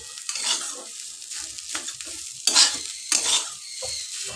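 Mashed jackfruit seed with chili and salt being stirred and pressed in a dish, a few close, soft scraping and squishing strokes in short bursts with quiet gaps between.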